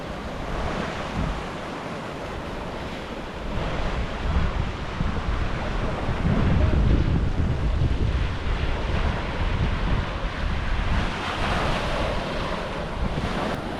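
Ocean surf rolls onto the shore at Oahu, Hawaii, a broad continuous roar of breaking waves swelling louder midway, mixed with gusty wind buffeting the microphone.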